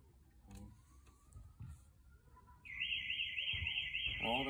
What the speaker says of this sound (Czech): takže se vám tady spustil nějaký alarm